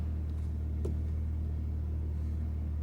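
Low, steady idle of a Toyota MKV Supra engine warming up, a quiet constant rumble with a single brief tick partway through.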